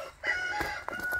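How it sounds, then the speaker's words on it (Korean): Farm chickens and a rooster crow and cluck close by, several overlapping calls in quick succession, loud and clear, with no talking. "우리 닭들이 아주 열심히 울어댑니다."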